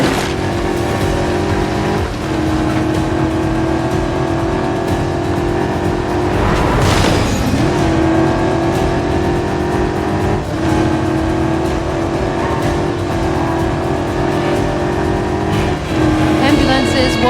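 Cars race through a chase in the video game 007 First Light, a continuous loud engine roar with revving surges and a whooshing pass-by midway, while voices talk over the action.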